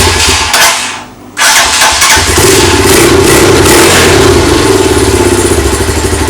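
A Lifan 175 motorcycle engine, just cleaned of carburetor deposits after sitting idle, cranks briefly, catches with a loud burst, then runs and revs steadily at close range; no talking.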